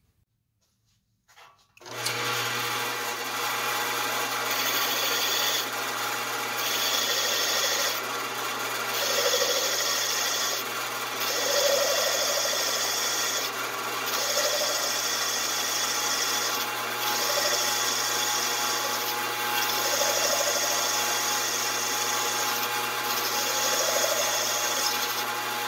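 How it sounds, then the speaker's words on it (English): Steady mechanical whirring and grinding of a drill press bit working into glass, with a periodic rise and fall in pitch as the bit is pressed and lifted. "So I've got the drill press adjusted to that, and I'm ready to start drilling."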